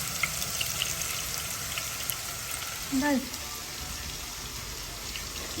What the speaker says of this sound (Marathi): तेलमध्ये हे कांदा घालते. कांदा घालून तेल घालूनच तेलमध्ये हे भाजून घ्यायचं.